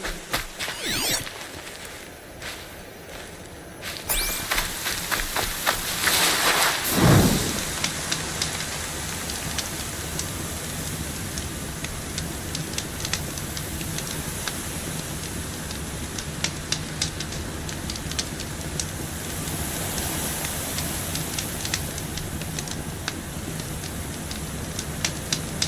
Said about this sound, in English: And there's the rain.